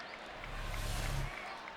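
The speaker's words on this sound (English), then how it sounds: "And he's turned this crowd on. They're excited now." Baseball crowd at a Cardinals at Pirates game roars after a two-run home run to the opposite field, a broad swelling cheer and applause rising briefly then easing.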